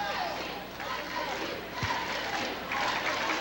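Crowd noise at a 1994 Georgia state championship girls' high school basketball game, a continuous roar of the audience in a gym with a commentator talking over it.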